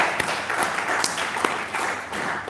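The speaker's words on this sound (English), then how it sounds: "A round of applause, please" Applause from an audience at a university welcoming event in Abuja, a steady dense wash of clapping lasting a couple of seconds at moderate loudness, with no talk over it.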